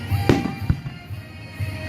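Independence Day fireworks at Morningside Park: two sharp, moderately distant bangs early on, followed by softer rumbling pops and crackle trailing off outdoors.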